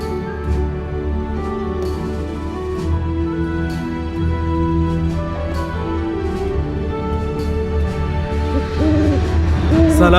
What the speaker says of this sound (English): It's now time to greet our favorite treetop friend, the wise owl.